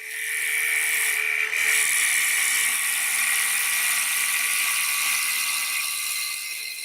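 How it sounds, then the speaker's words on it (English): A wood lathe spins steadily while a carbide scraper makes a side grain push cut. The result is a continuous, fairly loud high-pitched whine with a hissing scrape that holds for several seconds and has no talking. "just a very simple side grain push cut with a scraper"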